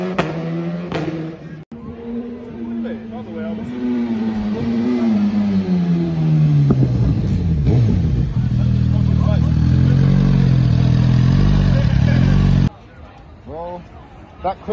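A tuned Suzuki GSX-R1000R superbike accelerates on a ride, its engine note climbing and dropping through quick-shifter gear changes, loud and steady for about twelve seconds before cutting away.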